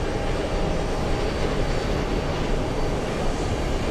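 A JetBlue airliner at JFK airport roars as a steady, loud, broadband engine rush that holds unchanged throughout, with no voices over it.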